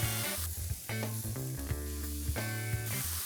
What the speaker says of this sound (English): In the warm pan, I'll slide in the onion and garlic